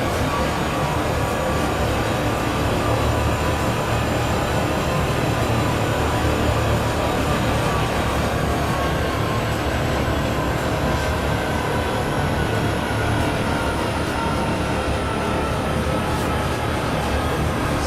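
Freight train on the Union Pacific Cheyenne-Laramie line in Train Sim World 6 rolling steadily, a continuous loud rumble of wheels and cars with faint high wheel squeal drifting over it, no talk.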